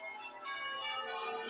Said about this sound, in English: Church bells rang out in panic.